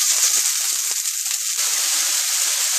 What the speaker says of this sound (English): we're going to go saute up our onions and mushrooms